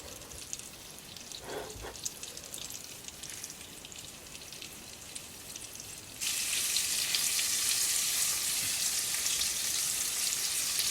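Pollock frying in a pan gives a steady crackling sizzle that suddenly grows louder and brighter partway through, then holds constant.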